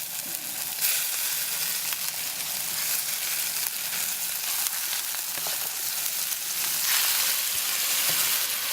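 Pieces of rabbit fry in a pan with a loud, continuous crackling sizzle that holds steady throughout, with no voices.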